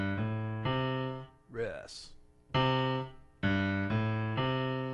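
Piano bass-line pattern played in the left hand, a few steady repeated low notes in a simple rhythm, interrupted briefly in the middle by a short spoken word before the pattern resumes.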